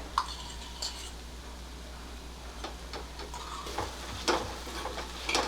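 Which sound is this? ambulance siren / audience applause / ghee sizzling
ghee sizzling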